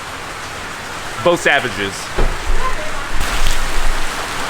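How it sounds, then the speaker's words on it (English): Heavy monsoon rain pours on the streets of Yangon, a steady hiss running under people talking close by, with louder wet patches and splashes near the end. "go head up downtown in this pouring monsoon crazy ass rain"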